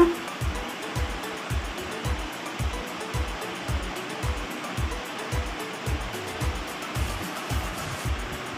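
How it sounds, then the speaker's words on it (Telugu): Water poured steadily over gongura leaves being washed, a continuous rushing splash with rhythmic sloshing pulses through the whole stretch, close and moderately loud. "ఇప్పుడు నీళ్ళు పోసుకుంటున్నా."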